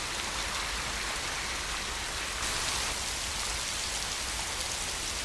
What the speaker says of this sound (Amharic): ዝናብ ውስጥ ሆናችሁ ዝናብ ሳይመታችሁ በጣም ይገርማል